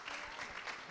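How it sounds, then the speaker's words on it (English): Hearty applause from an audience closing a public health research conference session, steady dense clapping filling the room throughout the brief moment. "Give him a very hearty applause"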